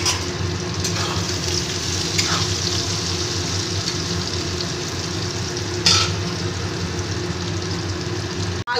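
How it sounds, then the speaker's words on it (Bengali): Potato pieces frying in hot oil with turmeric and salt give a steady, loud sizzle and hiss throughout, broken by a few brief stirring scrapes. "আমি এবার এই আলুটাকে ভেজে নেব ভালো করে"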